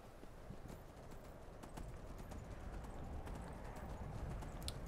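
Horse hooves clip-clop steadily in the video game Skyrim, a continuous run of close, even hoofbeats over a gritty ground noise with no talking.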